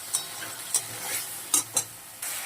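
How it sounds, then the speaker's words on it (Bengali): Spiced masala with potatoes stirred and fried in oil in a pan: a steady low sizzle with several sharp scraping spoon strokes at uneven intervals, close and alone. "মশলাটা কষিয়ে নেব"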